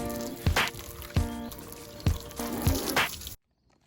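Water rinsing soap off a car during a home car wash with an IK Cleaning Sprayer, several splashing bursts of spray and dripping at a steady rhythm, close by, then cutting to silence.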